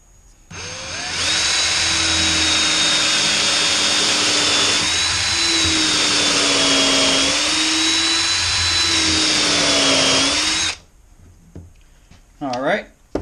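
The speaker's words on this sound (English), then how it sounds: "And now we're just going to drill straight down in the center." A power drill bores straight down into the center of a shifter knob, a loud, steady whine with slight pitch wobble that runs about ten seconds before cutting off, followed by brief handling noises.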